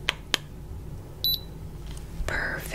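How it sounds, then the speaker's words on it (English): An electronic beep from a medical examination device during a nurse's bedside exam, a short bright tone sounding once at moderate level in a quiet room with faint handling noises. "You'll hear a beep."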